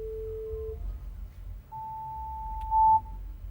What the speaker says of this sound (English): So I'll just play the sine wave example again.